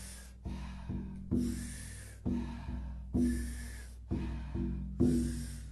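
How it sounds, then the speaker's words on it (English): Rhythmic, powerful Wim Hof-style breaths drawn in and pushed out through the mouth during a lying-down yoga class, about six forceful cycles in a steady pulse, close and fairly quiet. "taking about 40 powerful breaths into the body through the mouth"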